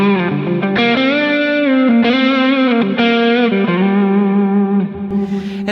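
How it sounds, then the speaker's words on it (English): A sustained distorted electric guitar plays held notes that shift in pitch, washed in lush reverb with a long shimmering tail. "Like this is just a plate verb"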